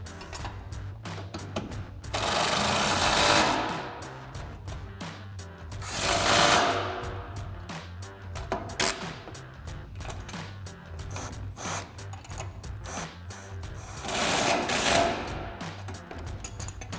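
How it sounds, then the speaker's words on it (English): An impact wrench with a 6mm Allen socket tightens bolts on a Westin HDX modular grille guard on a 2016-2023 Toyota Tacoma. Three loud rattling hammering bursts of a second or two stand out, with quieter clicking and handling noise between them. "now we're gonna grab our impact and 6mm Allen socket, 15mm wrench, and tighten everything down"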